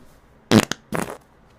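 A fart during a live stream: two short, loud bursts roughly half a second apart, the first sharp with a brief tail and the second rougher and longer, with no talking over them.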